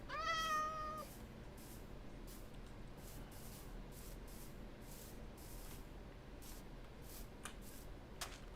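A cat meows once in the Minecraft ATM10 modpack, a clear, close game sound at the start, followed by quieter shuffling clicks and soft game noise.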